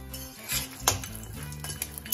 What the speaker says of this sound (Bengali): গোটা গরম মশলা দেওয়ার পর একটু নাড়াচাড়া করে নেওয়ার পর দিয়ে দেব আমি কাজু আর কিশমিশ